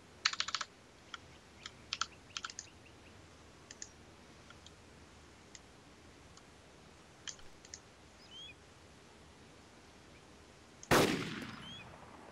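A single loud sniper rifle shot in the survival video game DayZ, a sharp crack with a trailing decay near the end, preceded by faint scattered keyboard clicks over a quiet background.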